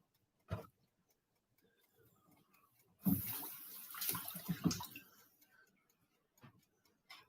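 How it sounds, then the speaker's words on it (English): Sliced green peppers rinsed under a running kitchen tap, a short burst of splashing water in the middle framed by a few isolated knocks and clicks, close and fairly quiet with no talk. "Now you want to slice the green peppers that you cut up straight down the middle. And you want to rinse them off."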